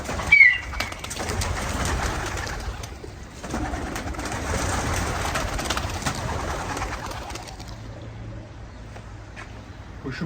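Pigeons cooing amid a busy rustle of flapping wings, with a low background rumble and some voices in the mix.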